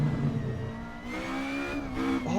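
A Ford Escort Mk1 race car engine in the Assetto Corsa racing game, held in third gear through a chicane on a track, revving steadily with a rising and falling mid-pitched drone and no talk.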